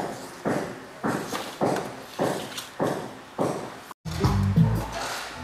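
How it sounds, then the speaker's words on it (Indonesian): A Beta 3 TX500A 15-inch active loudspeaker, rated 350 watts low and 50 watts high, plays thumping bass-heavy beats pulsing about twice a second, ending in a deeper, louder passage after a momentary cutout. "ini suara dari TX500A"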